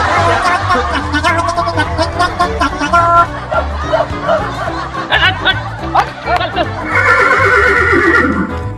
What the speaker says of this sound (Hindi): अब घोड़े की साउंड बजा रहे हैं यार।